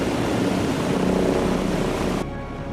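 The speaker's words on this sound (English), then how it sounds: "the helicopter is hovering over the falls" A Coast Guard helicopter hovers over a waterfall, its rotor a steady, loud roar blended with the rushing of falling water, the noise dropping abruptly near the end.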